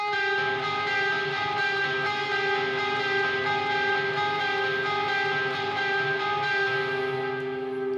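A sustained, ringing guitar chord lets its notes sound together, steady and moderately loud, with a slightly dissonant, bell-like shimmer.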